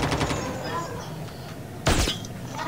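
Gunfire from a Call of Duty match: a sharp burst of shots near the middle stands out above steady game noise, with people talking over it.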